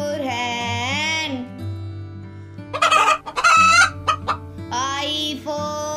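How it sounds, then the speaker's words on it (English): A hen clucks in a quick run of close, loud calls partway through, set between stretches of cheerful children's alphabet-song music that continues underneath. "H for hen"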